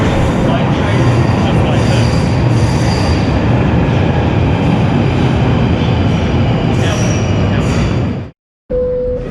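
A London Underground tube train runs through a circular tunnel with a loud, continuous rumbling roar and metallic wheel squeal. Near the end it cuts off abruptly to a brief silence before the noise returns.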